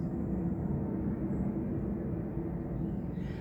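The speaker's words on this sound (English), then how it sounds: "I live near an airport. Let's wait for the plane to go." An airplane passing low near an airport, a continuous heavy rumbling drone that stays loud and steady throughout, with no talk over it.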